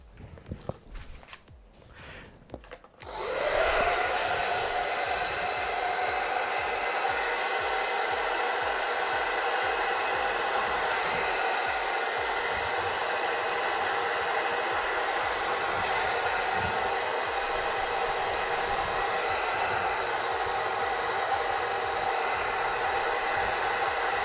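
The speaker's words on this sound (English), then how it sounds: "Okay, hairdryer" A very powerful hair dryer switches on after a few seconds of quiet handling noises and blows steadily and loudly at close range across freshly poured acrylic paint with cell activator.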